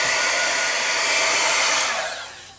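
A dryer blows steadily on paint on a collage art tag, a close, loud rushing hiss that holds for about two seconds before fading as it is switched off.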